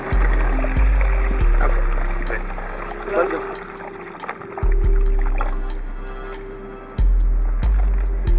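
Water poured into a box around the roots of young trees in desert soil, a steady trickling pour with a few dull knocks and handling sounds, fairly close.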